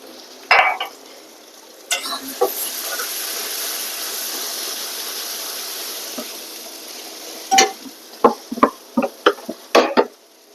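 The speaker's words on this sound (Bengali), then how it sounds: "এখন রসুনের সাথে আরো পেঁয়াজটা ভালো হবে ভাজা" Onion and garlic fry in hot oil for a Bangladeshi dried fish curry, a steady close sizzle and hiss with sharp spoon scrapes and clinks against the pan, clustering into quick stirring strokes toward the end.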